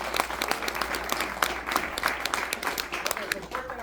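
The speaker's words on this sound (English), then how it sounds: "Yeah, you can clap on that one." Applause from a gathered crowd at a celebration of a postal worker's 50 years of service in Lubbock, Texas: brisk, dense clapping with sharp individual claps standing out, sustained throughout at moderate level.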